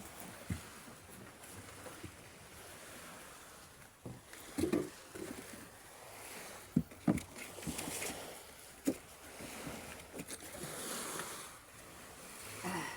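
Small boat out on the water near a beach resort, with scattered knocks and splashes over a steady background wash of water and motion.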